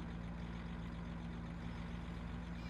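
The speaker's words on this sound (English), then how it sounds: "I love the fact that this has a diesel engine noise, but in fact it is a V8 under the bonnet." Tractor in Farming Simulator 17 giving a steady diesel engine drone, a continuous low idling rumble with strong low harmonics, close and even throughout with no talk.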